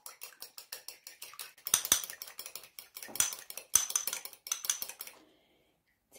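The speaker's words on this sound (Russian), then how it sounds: "Вначале я немного взобью белок." Egg white being whisked in a bowl for a homemade face mask: a rapid, steady run of light clinking taps against the bowl for about five seconds, close up, then it stops into silence.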